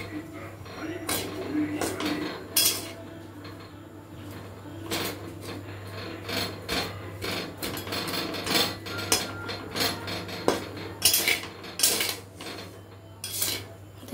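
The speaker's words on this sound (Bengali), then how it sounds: "এবার এগুলোকে আমি কড়ার মধ্যে দিয়ে ভালো করে নাড়িয়ে নেব।" Hair-dye ingredients stirred in a kadai, with repeated metallic scrapes and clinks of a spoon against the pan alongside a steady low hum, the scraping coming in irregular bursts.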